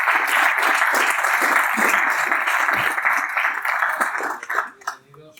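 An audience applauds a speaker at a talk on the Antikythera mechanism, dense sustained clapping filling the room for several seconds before tapering off.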